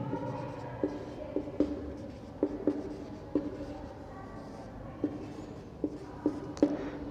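Pen or chalk writing out notes on helium for a chemistry lesson, a series of short scratchy strokes and taps at an irregular pace, close and fairly quiet, with no talk.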